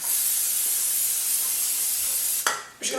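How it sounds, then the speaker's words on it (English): Cooking spray hisses steadily onto a baking pan being greased for banana bread, a close, continuous spray that stops abruptly near the end, followed by a couple of short clattering sounds. "now we're going to take our spray"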